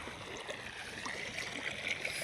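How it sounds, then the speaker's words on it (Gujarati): Steady rushing and gurgling of irrigation water flowing through a field channel toward a maize crop, continuous and fairly close, with no voices. "પાણી ચાલુ થઈ ગયું."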